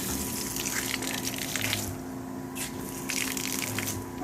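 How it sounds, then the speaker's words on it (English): Water runs steadily from a tap on a Jeep Wrangler's pressurized water system, a continuous hissing gush with a low pump hum underneath, fairly quiet and close. "right now it's running, power's to it, and pressurized running water"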